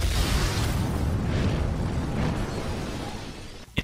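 Explosions in the Terraria video game, a loud sustained rumbling blast that fades gradually, ending with a sharp pop.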